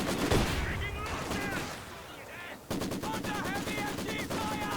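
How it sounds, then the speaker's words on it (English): Maxim machine guns rattle in rapid bursts in Company of Heroes 2, with dense rhythmic gunfire and other battle noise that breaks off briefly before a new steady burst. "These Maxims have been doing great work for the Soviet player the entire game"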